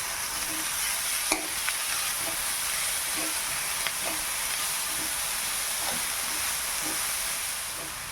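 Sprouted moth beans dropped onto fried onions in a pan and stirred, a continuous hissing sizzle with regular scraping strokes of a spatula and a sharp clack near the start, heard alone.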